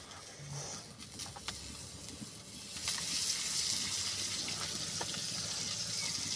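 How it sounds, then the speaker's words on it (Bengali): Leafy greens frying in oil in a home kitchen give a soft patter and watery sizzle that swells and steadies partway through, with faint clinks and no talk over it. "শাক ভাজি করুন।"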